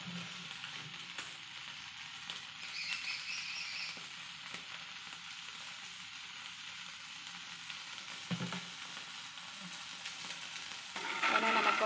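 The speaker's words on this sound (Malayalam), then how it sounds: "അപ്പോൾ ഇതിനകത്താണ് ഞാനിന്ന് മീൻ വറുക്കാൻ പോണത്. മണ്ണിൻ്റെ ചട്ടി ചൂടായിട്ടുണ്ട്. ഇനി നമുക്ക് കുറച്ച് വെളിച്ചെണ്ണ ഒഴിച്ചു കൊടുക്കാം." Fish fries in coconut oil inside a hot clay pot, a steady close sizzle and crackle with occasional stirring or shifting sounds and a brief louder burst near the end.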